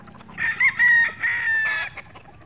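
Roosters crow with drawn-out, rising calls close by, mixed with a few clucks, against a quiet outdoor background.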